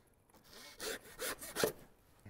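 Pork ribs being cut off during a pig butchering, three close rasping back-and-forth sawing strokes through bone, moderately loud against a quiet background.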